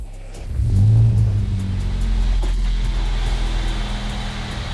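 Budget drift car engine revving while warming up, a steady loud low rumble that swells after the first half second and holds at a high idle, close by with no speech.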